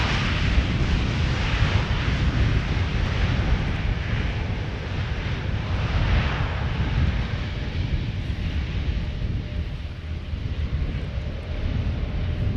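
A jet airliner arriving at Amsterdam Schiphol Airport, a loud, continuous engine roar with heavy low rumble and wind buffeting that holds steady throughout, no voices.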